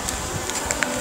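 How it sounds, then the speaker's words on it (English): Bees buzzing around an outdoor sink at a US national park, a steady close drone with a few brief louder passes as insects fly near, no talking. "All the bees."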